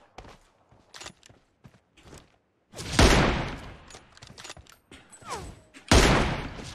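Gunfire in the mobile battle royale game PUBG Mobile with an M24 sniper rifle, a series of short scattered shots followed by several loud, heavy bursts close up, with no talking.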